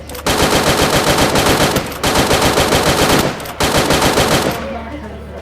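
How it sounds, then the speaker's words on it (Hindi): Bursts of automatic gunfire from an M249 in the mobile battle-royale game Free Fire, three long rapid-fire strings separated by brief pauses, loud and close, ending with a fading tail. "इस गन शॉट की वजह से सारे एनिमी को पता चल गया था इसकी लोकेशन"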